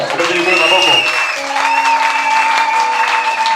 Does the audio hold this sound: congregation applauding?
yes